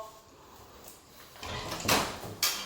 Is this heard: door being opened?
yes